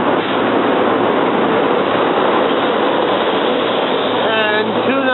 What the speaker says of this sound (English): The R3 to Center City has finally arrived with rail cars 370,